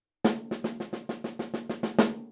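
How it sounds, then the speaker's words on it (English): Snare drum playing an 11-stroke roll starting on beat one: a quick, even run of about eleven crisp strokes, the first and last notably louder, played alone and close. "An 11-stroke roll is 1 accent and then 5 double strokes."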